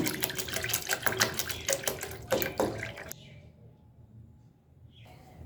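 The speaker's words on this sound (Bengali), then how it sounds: "এবার ধুয়ে নেওয়া ডালের মধ্যে বেশ কিছুটা পরিমাণ জল দিয়ে দিলাম" Water is poured into a bowl of washed lentils, a loud bubbling, splashing stream for about three seconds that then stops, leaving quiet room tone.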